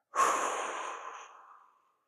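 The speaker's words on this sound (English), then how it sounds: "Taking a big breath again." A single deep, breathy sigh of air, clear and close, swelling quickly and then fading over about a second and a half.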